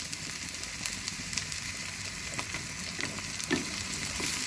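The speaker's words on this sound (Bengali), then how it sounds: "তেলটা গরম হয়ে আসছে, দিয়ে দিচ্ছি পেঁয়াজ কুচি।" Chopped onion sizzles in hot oil at the start of cooking beef paya, a dense, steady crackling hiss with a few sharper pops and occasional stirring.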